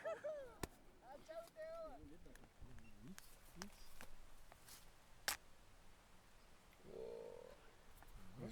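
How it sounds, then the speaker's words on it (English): Cacao pods being split open near Baracoa, Cuba: a few sharp, sudden chopping cracks stand out over quiet outdoor background, with voices heard intermittently. "That is the sound of cacao being opened"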